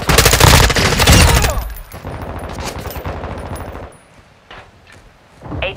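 Rapid automatic gunfire in a Call of Duty: Modern Warfare II multiplayer match, loud dense bursts up front that thin into scattered shots and softer distant fire, with brief metallic clinks.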